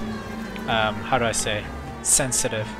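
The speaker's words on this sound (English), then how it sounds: "Alright, that's the siren going." Police car siren from the LA Noire video game wails in short bursts at moderate distance, heard under someone talking.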